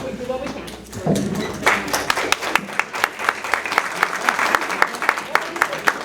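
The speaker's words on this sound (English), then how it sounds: "That's well-deserved applause, Connie." After a brief murmur, a small group at a school board meeting breaks into clapping, sharp individual claps audible in an uneven rhythm, moderately close.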